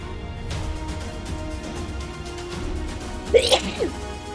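A single sharp sneeze bursts out near the end, after a stretch of quiet background with soft voices in the room.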